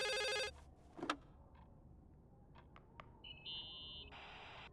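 An old-style telephone bell rings in the video game The Suicide of Rachel Foster, one loud burst at the start, then quiet ambience, faint clicks and electronic tones that end on a longer buzzing note.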